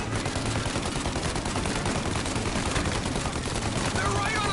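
Tommy gun gunfire in Mafia Definitive Edition, dense rapid bursts of automatic shots rattling continuously amid chaotic game noise.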